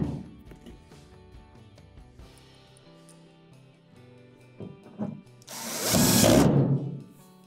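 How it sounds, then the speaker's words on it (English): A power driver sets a screw into the back panel of an Amana dryer: short stuttering bursts, then a loud sustained whir of about two seconds, close up. "Get one started and then finish it off with your driver"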